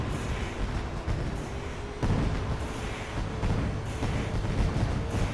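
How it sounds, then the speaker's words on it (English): Loud fireworks at the Eldora race track, a dense rumbling roar of booms and bursts filling the whole span, close and heavy with no clear gaps and no talking. "Oh my god, those fireworks are so loud."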